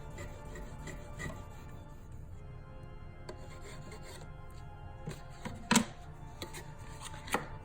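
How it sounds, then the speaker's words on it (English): Paper is burnished with a bone folder in a papercraft session, making soft repeated rubbing and scraping strokes, quiet and close, with a couple of sharper taps near the end and no talk. "take my bone folder, and I'm going to burnish that"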